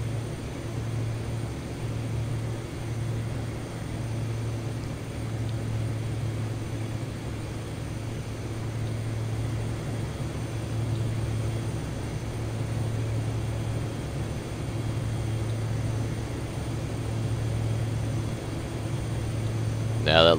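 Powerful light aircraft flying toward Sherman Meadows, Canada: a steady droning engine hum with a strong low tone, constant and close from the cabin, over twenty seconds.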